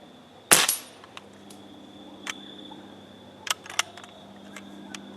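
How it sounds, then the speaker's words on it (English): A Benjamin 392PA pump air rifle fires a pellet with one sharp, loud crack near the start, followed by a few faint mechanical clicks and taps from handling the gun, heard alone and close. "Pump it 3, 4, 5 times, put a pellet in it,"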